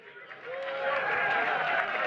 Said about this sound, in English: let's give a round of applause to the Wright Museum